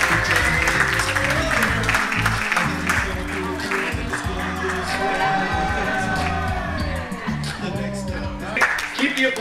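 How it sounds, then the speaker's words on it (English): Guests at a wedding reception applauding the bridesmaids, steady clapping from a room full of people with an announcer talking over it through the sound system. "Keep the applause going for the bridesmaids."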